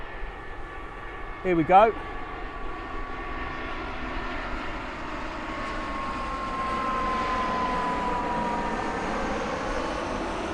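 A Eurowings airplane flies near the airport, its engine roar building from faint to a loud, sustained drone; a voice speaks briefly early on.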